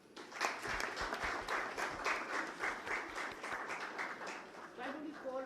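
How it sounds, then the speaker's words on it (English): Steady applause from an audience at a water sustainability award ceremony, a dense wash of clapping that carries on for several seconds, with a voice speaking over its end. "Let's give them all a big round of applause."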